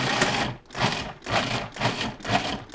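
A food processor pulses a roasted red pepper mac and cheese sauce in five even, whirring bursts about half a second apart, close and loud.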